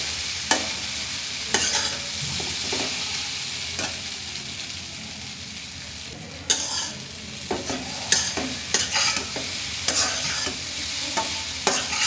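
Noodles frying with spices in a pan, stirred and flipped: a steady close sizzle broken by clattering scrapes and knocks of the utensil, busier toward the end, with no speech.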